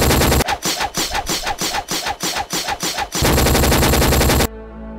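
Call of Duty 4 machine gun fire in a video game, loud rapid bursts of automatic shots in a steady stuttering rhythm, then a dense sustained barrage that cuts off abruptly, with no talking.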